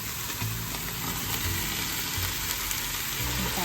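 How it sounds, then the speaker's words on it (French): Sausages sizzle in a pan during home cooking from French Guiana, a steady, fairly loud frying hiss with light crackling that carries on evenly without speech. "maintenant, on va mettre les saucisses"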